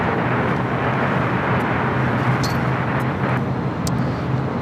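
An SAS Airbus A350-900 touches down on the south side runway at LAX, a steady broadband roar of jet engines and rushing air heard from a distance, sustained and even throughout.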